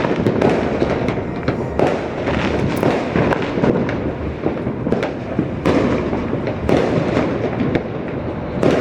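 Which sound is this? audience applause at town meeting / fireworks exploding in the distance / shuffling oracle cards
fireworks exploding in the distance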